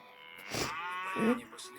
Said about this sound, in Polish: Polskie krowy pasły się na polanie